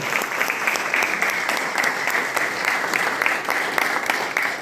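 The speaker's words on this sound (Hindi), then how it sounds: "तो एक बार जोरदार तालियां ऊपर वाले के नाम पे, परम पिता परमेश्वर के नाम पे तो बजाइए, जोरदार तालियां" Loud, dense applause from a seminar audience in a hotel hall fills the whole stretch, steady and sustained with no voices over it.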